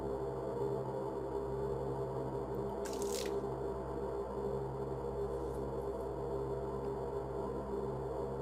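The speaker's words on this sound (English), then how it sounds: "Again, there's that weird water sound when I pick them up." Items picked up in the video game NNNNNIGHT trigger a strange, wet, squishy water sound, one brief burst and then a fainter second one over a low steady hum, with no talking.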